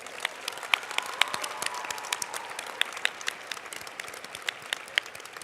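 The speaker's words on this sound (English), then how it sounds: "Can we have one more round of applause, please, for both teams?" At a school closing ceremony, an audience applauds both teams with sparse, crisp claps from a moderate number of hands, steady and fairly quiet, with a few sharper individual claps standing out.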